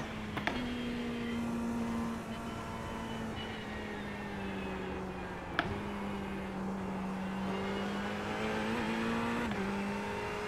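A GT3 race car engine in the iRacing sim drones at a steady, high-revving pitch, dipping and climbing slightly through gear shifts, with a couple of brief clicks over the continuous engine note.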